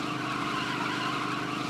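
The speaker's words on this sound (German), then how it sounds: "Junge, hört euch die Reifen an" Tires squeal continuously on a car in Lego Batman 3, a steady, moderately loud skidding screech with no talking over it.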